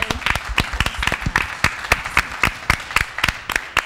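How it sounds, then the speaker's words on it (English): A small panel-event audience claps for an organizer: a sparse run of sharp, distinct hand claps at a steady, uneven pace, fairly close and moderately loud, with no talking. "just a round of applause for Kristen."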